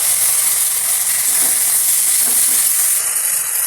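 Cumin, ginger and coriander pastes frying in oil for a chicken curry, giving a loud, steady, close hissing sizzle that holds throughout without a break.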